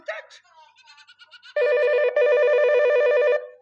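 A telephone rings in two long electronic bursts, loud and close, following a short run of dialing tones and brief voices at the start.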